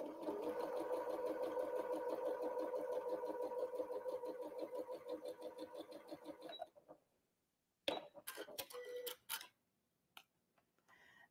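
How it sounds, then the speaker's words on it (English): A sewing machine stitches a quilt block seam for a barn star quilt, running in a steady fast rhythmic whir for several seconds before stopping, followed by a few short bursts of stitching and clicks. "So I'm going to just bring this over and sew right on that line."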